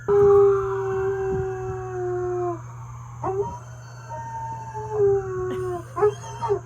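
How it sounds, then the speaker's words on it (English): A dog howls at sirens in long, wavering tones over a steady low hum, pausing and then breaking into a series of shorter yips and howls toward the end. "It's Miko howling at these sirens."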